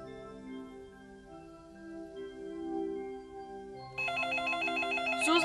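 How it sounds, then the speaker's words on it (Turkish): A telephone bell rings out in a rapid trilling burst, fairly close, following a quiet stretch of soft background music. "Yukarıdan telefon çalıyor."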